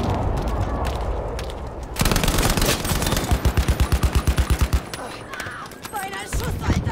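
Gunfire in the shooter game Battlefield 5: a sudden burst of machine-gun fire erupts, a rapid string of about a dozen loud evenly spaced shots, followed by scattered distant shots and a soldier's voice over background battle noise.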